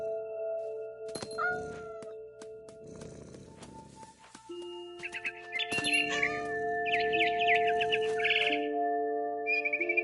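Game bird chirps in What Remains of Edith Finch, bright short tweets and trills scattered through the middle and end, fairly close and mixed with tonal game music and rustling effects.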